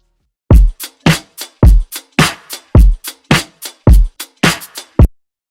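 A chopped drum loop in a producer's beat: a punchy, evenly spaced series of about a dozen hits with deep low thumps and bright sharp transients, loud and alone with no voices.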